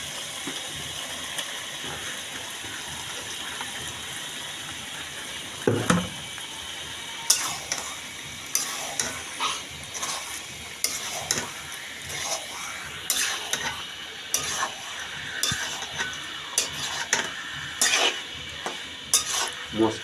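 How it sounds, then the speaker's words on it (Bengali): Kuchia (eel) meat sizzling as it is added to a hot pan and stirred with spices, a steady frying hiss broken by repeated scraping and clattering of the spoon against the pan, close and continuous. "এখন কুচ্চার মাংস দিয়ে দিব"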